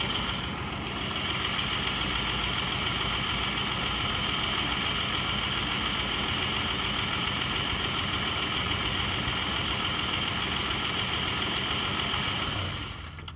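A Slant-6 car engine idles with a misfire: a continuous, steady low mechanical rumble close by with an even, slightly uneven pulse. It runs on its own for about thirteen seconds, then cuts off at the end.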